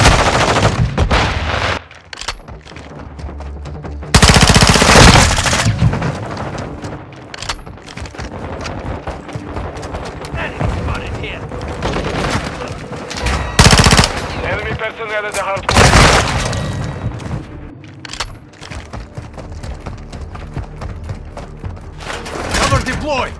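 Loud Call of Duty: Modern Warfare II multiplayer gunfire bursts and machine-gun fusillades, with heavy booms and shooting that keeps returning under tactical voice callouts.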